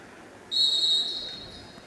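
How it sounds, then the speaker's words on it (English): A referee's whistle opens the second half of a basketball game with one loud, sustained shrill blast lasting about a second, then trails off into quiet gym ambience. "There's the whistle, and we are underway here in the second half."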